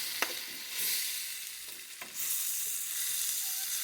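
Mushrooms sizzle and get stirred in a hot breakfast skillet, with a steady frying hiss, a few sharp scraping clicks, and the sizzle growing louder partway through.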